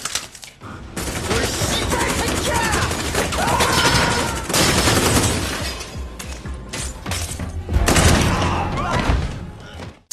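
Gunfire from an action film scene inside a building, dense bursts of shots and impacts with shattering, loud and continuous across the stretch, with brief voices mixed in.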